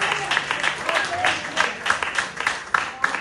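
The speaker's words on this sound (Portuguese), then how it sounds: "E você pode aplaudir" Church congregation at a family worship service claps along in a loud, rhythmic pattern of distinct claps, with a voice audible among them.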